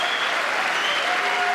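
Sustained applause from the audience at the State of the Union address, a dense, steady wash of clapping that stays loud and even throughout, with no talk breaking through.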